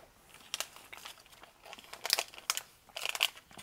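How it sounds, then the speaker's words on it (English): A cold, crunchy plop snack bar being chewed up close, giving irregular crisp crunching bursts, several loud bites spaced across a few seconds with no talking. "The coldness on that makes it perfect because it's crunchy."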